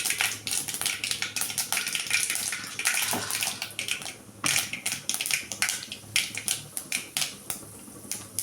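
Mustard seeds splutter and pop in hot oil with chana dal, tempering for a bitter gourd poriyal: a dense, continuous crackle of sharp snaps close up, with no voices.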